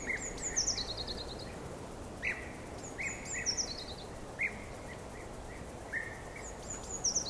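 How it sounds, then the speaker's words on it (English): Several birds chirp and trill in short repeated phrases over a steady, soft outdoor hiss, with calls coming at irregular intervals throughout. "fill in those areas with this chirping bird and forest noise"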